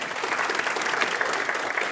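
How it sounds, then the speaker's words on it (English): Brief, steady audience applause at a medical conference on bladder and prostate cancer treatment, dense clapping from a room of listeners, moderately loud and continuous. "Let's give them a round of applause for all of their hard work."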